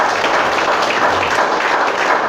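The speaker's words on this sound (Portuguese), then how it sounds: "Pode aplaudir, glorificar o Senhor" A church congregation claps together in a dense, steady wash of applause, loud and close, with no voices rising above it.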